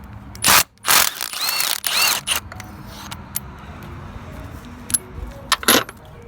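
A ratchet works spark plugs out of a 2010 Chevy Camaro, with quick bursts of metallic clicking and clinking of tools and parts, close by, between quieter pauses.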